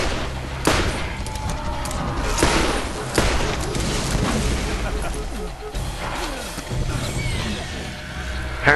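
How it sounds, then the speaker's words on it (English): Repeated booming explosions and gunfire bursts from the video game Borderlands, loud and rumbling, with voices talking over them. "Apparently explosions don't do a lot."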